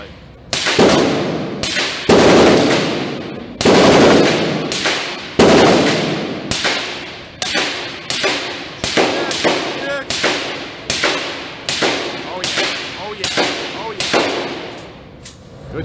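Repeated loud gunshots at an outdoor Texas shooting range, including a Magna Eclipse, cracking close by in an irregular series of more than a dozen sharp reports with short gaps between them.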